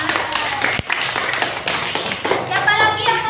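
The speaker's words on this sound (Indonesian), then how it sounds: "Iya, bagus, tepuk tangan ya." Students in a classroom clap together in a loose, uneven burst of hand claps, close and fairly loud, with voices murmuring underneath.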